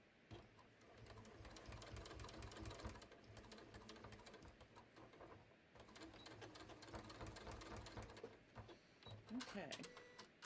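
A sewing machine stitches a garter belt in two long rapid runs of fast, even mechanical chatter with a short pause between them.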